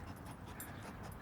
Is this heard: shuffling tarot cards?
no